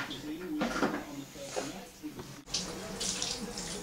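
Tap water runs steadily into a salon basin for a client's hair wash, a soft continuous splashing heard close by with voices talking over it.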